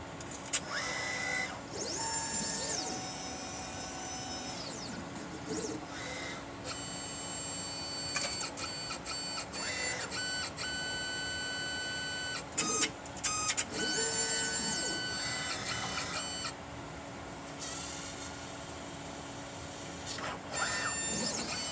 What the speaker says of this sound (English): we still vortex for 10 seconds, vortex for a minute, but right now we cut it short for 10 seconds